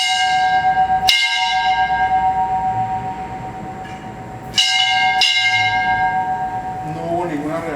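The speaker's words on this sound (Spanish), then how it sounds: "Toquemos la campana." A school bell is struck during a nighttime paranormal exploration of an institute, with three sharp strikes ringing out and sustained metallic tones decaying slowly between them, loud and resonant, with faint movement and murmuring underneath.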